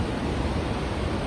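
A waterfall in a Cambodian jungle sends out a steady, broadband rushing roar with no breaks.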